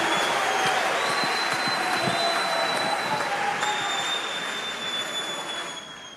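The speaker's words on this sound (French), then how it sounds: "je vais vous demander d'applaudir avec tout l'amour qui est le vôtre tous les orateurs et toutes les oratrices" Sustained audience applause at a public speaking event, a dense wash of many hands clapping that stays strong and then slowly fades toward the end, with faint tonal squeals in the background.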